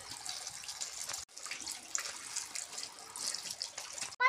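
Running water from a tap splashes steadily over freshly picked pomelos being washed, a continuous close hiss and patter with a brief break partway through.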